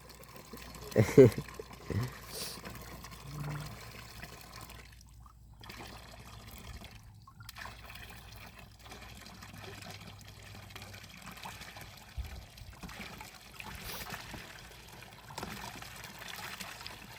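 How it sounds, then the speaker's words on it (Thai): Water splashes faintly as someone bathes in a pond at night, with soft trickles and small splashes, a couple of louder ones near the start, amid quiet background voices. "คืนนี้คือยังลงไปอาบอยู่น้ำหนอง"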